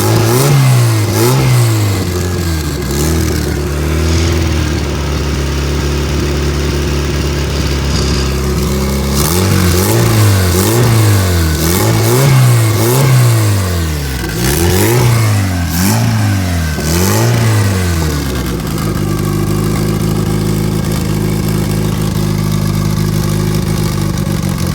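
Turbocharged all-wheel-drive Honda CRX engine on its first start-up, revved repeatedly in rhythmic bursts that rise and fall, then settling to a rough idle; loud and close with no talking.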